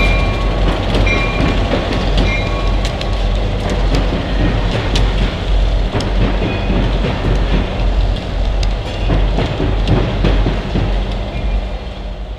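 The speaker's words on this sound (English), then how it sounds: "the Ann Arbor Railroad is ready to head south after about a half hour of work" Ann Arbor Railroad (WATCO) freight train rolling through Pittsfield Junction, a loud continuous rumble with the clickety-clack of wheels over rail joints and metallic squeals. It runs steadily throughout.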